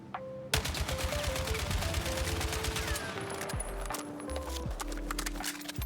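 AK-4D assault rifle firing in the game Battlefield 6, a rapid steady burst of loud automatic shots at a fairly slow cadence, with tonal game interface sounds layered over the gunfire.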